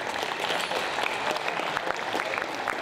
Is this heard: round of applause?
yes